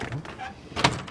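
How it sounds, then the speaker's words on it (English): A door is shut on the Oregon Coast with a single solid thud near the end. Someone talks softly just before it. "Shut the door."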